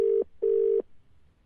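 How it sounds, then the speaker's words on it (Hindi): A phone call rings back: two long, steady electronic ringback tones separated by a short gap, clear and close, followed by quiet. "दोबारा रिंग जा रही है, देखते हैं।"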